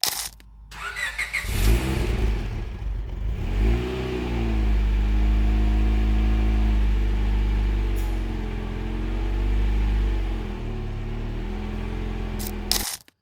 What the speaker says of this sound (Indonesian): Jadi mufflernya itu muffler Type R itu. Muffler Type R, terus knalpot tengahnya sama headernya semua fully standar Type R di mobil ini.